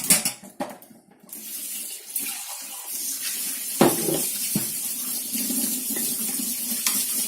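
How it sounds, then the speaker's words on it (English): Water runs from a tap over rice in a metal sieve, a steady close rushing wash with soft clatter, continuing alone throughout. "So I just throw it into a sieve, the same sieve I use for the dal."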